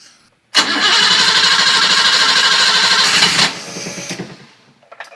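A 1980 BMW 528i engine cranks and catches, running loud and rough for about three seconds before dropping to a quieter, uneven idle and fading out.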